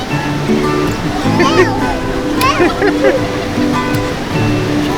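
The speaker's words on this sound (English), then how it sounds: "first time in the Pacific Ocean" Pacific Ocean surf washes steadily onto a beach, a continuous rushing roar under people talking and calling out nearby.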